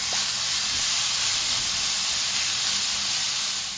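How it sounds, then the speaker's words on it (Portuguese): Bacon frying in a heated pan gives a loud, steady, broad sizzling hiss at close range that runs unbroken throughout, with no talking. "Coloquei uma panela para aquecer, a gente vai fritar o bacon."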